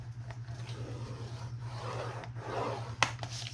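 Paper being scored by hand for a custom craft box made from scraps and gift tags: a quiet, soft scraping and rubbing stroke runs under a steady low hum and ends in a brief tap near the end.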